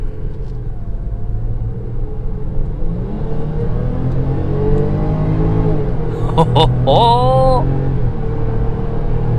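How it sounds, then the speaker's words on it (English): A 2017 Range Rover Sport accelerating hard with a supercharger, its engine note rising from a low rumble into a climbing whine that swells over several seconds, close inside the cabin, with a brief spoken exclamation near the end. "yes, I love that supercharger whine"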